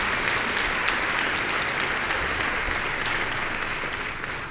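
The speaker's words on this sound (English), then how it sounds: "Let's give them a round of applause for their great support." A crowd claps for event supporters during a pro-life talk event, a dense, even wash of applause that holds steady throughout, then tapers slightly at the close.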